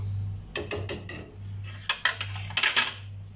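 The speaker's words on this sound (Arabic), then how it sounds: "ندير دابا ان شاء الله معلقه ديال الخشب مع التحريك حتى تعقد لينا الكريمه" A wooden spoon stirs pastry cream in a pot on the stove, knocking and scraping against the sides in quick bursts of clatter over a low steady hum.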